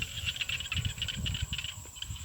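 Small frogs calling in a rice paddy after rain, a faint chorus of quick rhythmic chirping pulses repeating steadily against quiet background wind, with no voices.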